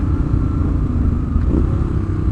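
A Harley-Davidson 150HP adventure motorcycle idles at a traffic light, its engine giving a loud, steady low rumble throughout with no talking.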